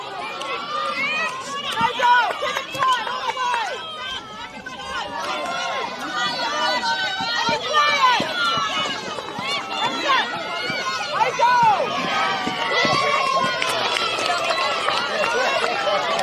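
Netball grand final crowd between Bencubbin and Koorda cheering and shouting in bursts, with excited whoops over a busy babble of nearby voices and a commentator talking throughout.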